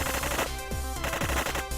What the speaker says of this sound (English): A machine gun armed bandit wagon arrived.